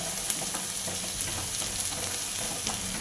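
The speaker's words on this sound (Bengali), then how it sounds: "পেঁয়াজটা কিছুক্ষণ তেলের সঙ্গে কষিয়ে নেবার পর এবার এর মধ্যে দিয়ে দেব দু চামচ লঙ্কার গুঁড়ো" Onion paste and chili powder frying in mustard oil, a dense, continuous sizzle with faint stirring scrapes, steady and close throughout, no voices.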